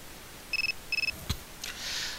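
Phone ringtone in Persona 3 FES: two short bursts of rapid high electronic trills, followed by a soft click and then a brief hiss of noise.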